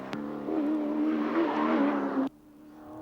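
A touring car in red and blue STP colours races a flying lap past BP cutting at Bathurst, its engine note loud and sustained before cutting off sharply, leaving a faint low hum.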